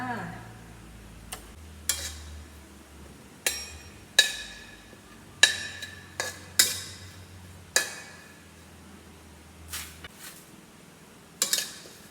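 Chilies dry-roasted in a pan, stirred with a utensil: sparse, fairly quiet scrapes and clatters at irregular intervals over a low steady hum.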